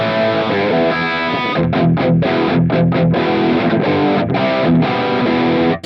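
Heavily distorted metal electric guitar played through the Bias FX amp app on an iPad: a sustained loud chord rings out, then tight, chugging palm-muted rhythm riffs with short choppy gaps, alone and up close.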